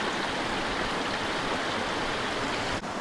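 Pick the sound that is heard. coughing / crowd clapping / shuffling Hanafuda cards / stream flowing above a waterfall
stream flowing above a waterfall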